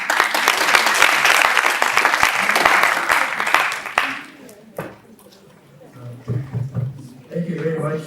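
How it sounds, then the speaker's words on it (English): Audience applause at an international engineering students conference after a student presentation, a loud burst of dense clapping that fades out after about four seconds, followed by quieter room sounds and a person talking. "Let's clap for him."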